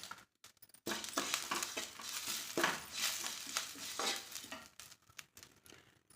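Cumin and lump asafoetida roasting in a pan for curry leaf rice, a soft continuous sizzle with steady stirring scrapes, quiet and close, with no voices over it.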